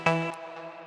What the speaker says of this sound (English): That's when I went and added these little synth fills.